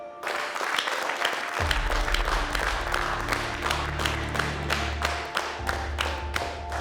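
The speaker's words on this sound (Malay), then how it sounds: "Dan peserta yang melakukan yang terbaik pada malam ini, berikan tepukan untuk Safwan." An audience at a televised senior versus junior cooking contest applauds a contestant with steady, dense clapping that holds throughout, along with a low musical drone.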